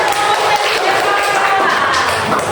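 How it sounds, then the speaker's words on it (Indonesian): Children in a classroom clap their hands together, a dense continuous patter of applause with voices mingled in, fairly loud and close throughout. "Berikan tepuk tangan."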